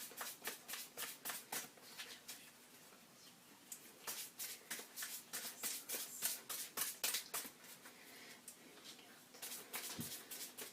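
Tarot cards are shuffled by hand in a quick run of crisp riffling flicks, close and fairly quiet, with short pauses between bursts.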